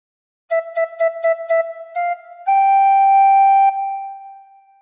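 A recorder plays a phrase of Joy to the World: five short detached notes, then longer held tones that step downward and fade at the end, clear and close with no talking.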